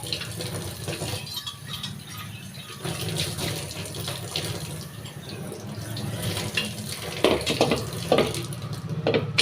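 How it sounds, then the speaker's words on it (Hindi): Running tank water splashes and gushes against a metal pressure cooker, with clanks and scrubbing as it is rinsed. "अब धोती हूँ मैं टंकी के पानी से इस कुकर को"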